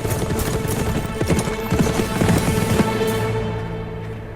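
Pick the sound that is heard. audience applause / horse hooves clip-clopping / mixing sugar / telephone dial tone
horse hooves clip-clopping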